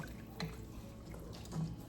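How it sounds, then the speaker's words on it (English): Water poured into a pot of lentils, just enough to sit above them for a thick stew, giving a faint, soft liquid trickle with a couple of slightly louder splashes. "I'm going to put just above the lentils because I want mine thick, so I don't want to drown this in water"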